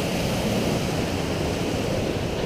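Golitha Falls waterfall in Cornwall roars as a steady, dense wash of rushing water, close and continuous with a broad constant hiss and no pauses.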